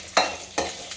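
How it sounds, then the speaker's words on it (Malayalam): Mustard seeds spluttering in a hot pan, heard as three sharp, loud crackling bursts spaced through a second over a quiet background. "മാറ്റിയിട്ട് കടുക് പൊട്ടിക്കാം."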